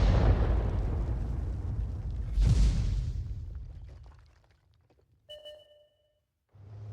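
A tank cannon round fired in a tank video game, a loud booming blast with a sharp crack near the start and a second burst, decaying into a fading rumble, followed by brief electronic tones and a low engine hum.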